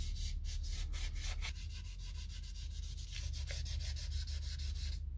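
Sandpaper rubbing over the painted body of an Edsel under restoration, a steady close scratchy rasp in repeated back-and-forth strokes with no talking.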